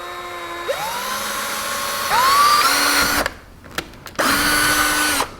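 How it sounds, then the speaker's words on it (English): A power drill with a step drill bit enlarges a hole during a Ford Mustang S550 install, whining up through several pitch steps in close, loud bursts separated by brief stops. "you use that little drill step, the little drill bit that's like a stepper tool"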